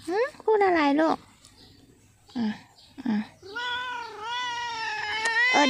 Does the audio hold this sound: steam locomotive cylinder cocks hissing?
no